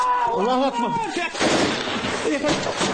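Gunfire from a group shooting toward a village, with dense, loud crackling bursts filling the second half after a brief stretch of voice at the start.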